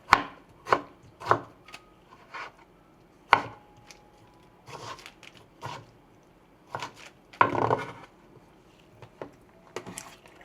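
A knife chops a tomato for cowboy bean soup, making irregular, close thuds on a board with uneven pauses between bursts and no speech.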